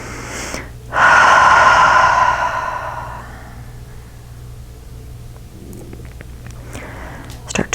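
One long, deep breath during a yoga session: a loud, close exhale lasting about two seconds that fades away, followed by quiet breathing and faint rustling.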